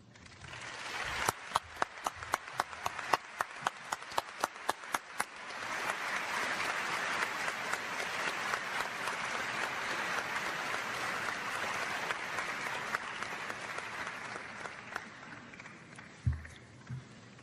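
Audience applause at a formal debate on theism and atheism, opening with a few sharp, separate claps that quickly swell into a dense, sustained ovation, then thinning toward the end with a single louder knock near the close.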